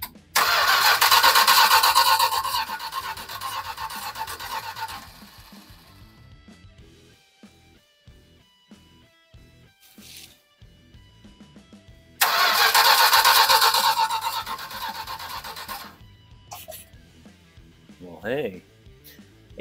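A vintage camper's engine, jump-started from outside, cranks loudly for several seconds, goes quiet, then cranks hard again, with a person talking in between.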